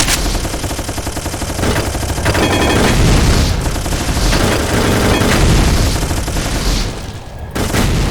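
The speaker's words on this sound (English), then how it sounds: "Machine gun." Rapid machine gun fire from a video game, dense and continuous with booming explosions mixed in, loud throughout with a brief dip near the end.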